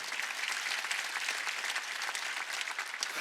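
Church congregation at a Wednesday worship service applauding God, a steady dense wash of many hands clapping throughout, loud and continuous with no voices standing out.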